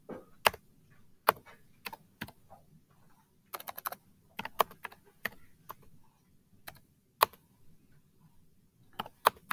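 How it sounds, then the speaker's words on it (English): Keys on a computer keyboard clack in irregular, close bursts of separate taps with quiet gaps between, in an otherwise hushed room. "go ahead and clear those out and then type in your"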